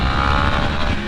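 Yamaha FZ-10 motorcycle engine pulling hard under acceleration, a dense, loud, steady roar with rising tone, close and alone for about a second.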